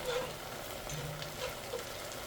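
Butter, about a third of a stick, melting in a hot pan on a home stove while a ribeye steak dinner is cooked, giving a soft, steady sizzle and faint crackle, low and continuous with no talking.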